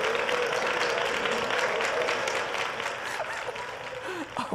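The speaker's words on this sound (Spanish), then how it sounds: "Ese aplauso" A studio audience applauds on a Spanish television talk show from Jerez de la Frontera, a steady, dense wash of clapping that holds loud for a few seconds and then eases off slightly at the end.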